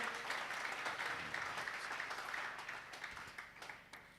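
A church congregation at a prayer meeting applauds Jesus Christ with dense, steady clapping from many hands, sustained and fairly distant, thinning slightly toward the end.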